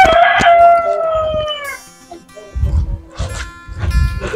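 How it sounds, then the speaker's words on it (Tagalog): A rooster crows loudly near the start, followed by scattered clucking and low thumping noises from nearby fowl. "may mga alagang mga manok"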